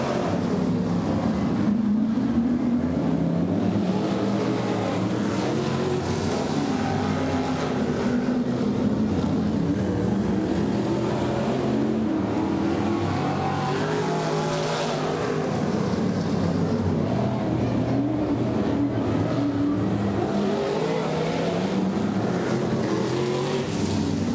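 Race cars thunder around an oval track led by the number 33 car, a loud, continuous engine roar with rising and falling passes and no voices.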